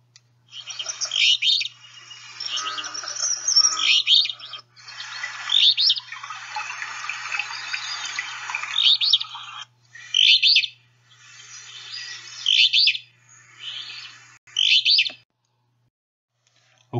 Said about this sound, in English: The alder flycatcher has a sort of raspy,